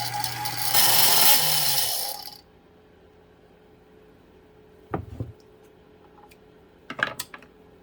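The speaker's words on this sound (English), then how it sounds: "That noise you're hearing is this metal bobbin on the spool pin." A Pfaff 230 sewing machine whirs loudly for about two seconds while winding a metal bobbin on the spool pin, then stops, followed by a few faint clicks and taps in quiet.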